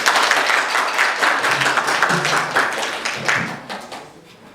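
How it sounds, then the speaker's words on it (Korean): A church congregation claps together in a dense, lively patter for several seconds, with voices faintly mixed in, fading slightly toward the end. "박수 한번 우리 한번 해볼까요?"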